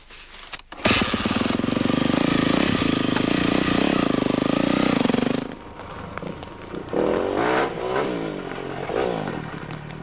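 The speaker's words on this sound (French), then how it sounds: "Je pars maintenant avec la nouvelle 400 YZF 4 temps." A Yamaha 400 YZF four-stroke enduro motorcycle fires up and rides off with a loud, sustained revving roar that cuts out abruptly, then revs again more unevenly in bursts, heard close.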